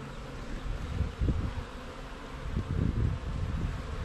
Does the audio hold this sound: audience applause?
no